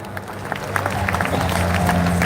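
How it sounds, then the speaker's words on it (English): A convention crowd applauds the sergeant-at-arms at the 2026 Rotary International Convention closing ceremony in Taipei, a full hall clapping in a steady, building roar with a low musical drone underneath. "Please give a huge round of applause for our 2026 convention sergeant d'armes"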